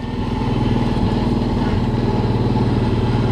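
Kawasaki Brute Force 750 ATV engine running steadily while riding, a loud, close, continuous low rumble with a pulsing drone that holds even throughout.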